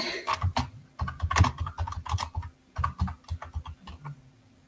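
Rapid typing on a computer keyboard while entering text in a code editor, close and crisp keystrokes in quick bursts with brief pauses between words.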